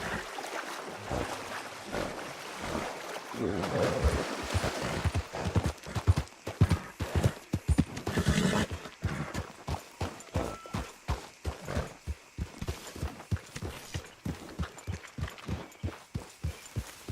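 Horse hooves clip-clop in Red Dead Redemption 2, a steady run of close, even hoofbeats that grows regular and rhythmic after a few seconds, with faint ambient game sounds underneath.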